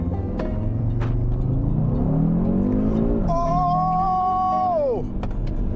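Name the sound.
Audi RS Q3 quattro accelerating hard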